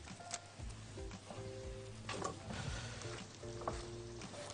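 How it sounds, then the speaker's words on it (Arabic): Green onion and mushroom with lemon juice sizzling and being stirred in a pan, a steady close frying hiss with light scraping and ticking from the stirring throughout. "ونقلب البصل الاخضر مع المشروم مع عصير الليمون بالشكل ده."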